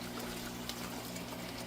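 Water gravity-feeds from a homestead aquaculture tank into a lower tank, a steady soft trickle and splash under a constant low pump hum.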